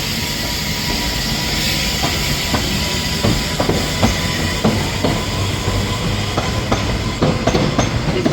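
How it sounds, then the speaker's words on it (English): A train passing through Manchester Piccadilly station, with a loud, continuous rumble and repeated clickety-clack wheel beats over the rails, heard alone without speech. "How about we see a train?"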